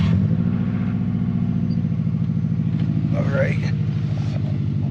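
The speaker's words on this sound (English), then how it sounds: "There's the cold start there." Subaru WRX with a new aftermarket exhaust on a cold start, a steady loud idle with a low pulsing rumble throughout, and a person speaking briefly over it.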